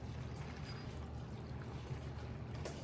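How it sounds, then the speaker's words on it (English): Water is poured onto Smooth-On mold powder in a mixing container, a steady splashing pour that runs for nearly three seconds with no talk. "I'm gonna take the water and dump it right on top."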